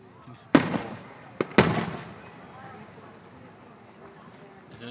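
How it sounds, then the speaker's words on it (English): Two loud fireworks bursts crack out about a second apart, each trailing off, while crickets chirp steadily through the night air. "One firework."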